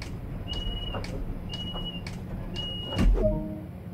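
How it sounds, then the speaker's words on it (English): A DB BR 423 train in Train Sim World 2 locks its doors. A repeating electronic warning tone comes in several short beeps, followed by a mechanical thud, all over a steady interior hum. "Set the doors to locked."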